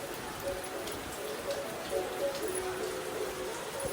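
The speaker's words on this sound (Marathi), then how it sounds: "आणि गारगार पाऊस आहे" Steady, cool rain in Konkan patters down continuously, a soft even hiss of drops falling on surfaces with no voices.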